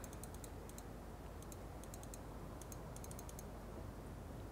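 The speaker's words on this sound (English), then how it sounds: "Can you hear my obsessive clicking on the mouse?" Rapid bursts of computer mouse clicking, several quick clusters of sharp ticks over a steady low hum, fairly faint with no talk.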